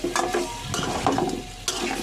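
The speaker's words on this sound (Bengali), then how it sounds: "আলুগুলো দিয়ে ভালো করে নেড়ে চেড়ে আমি হালকা করে কিছুক্ষণ কষিয়ে নিব" Potatoes for aloo dum are stirred and fried in a pan, with several scraping stirs and metallic clatters over a low sizzle, close and fairly loud.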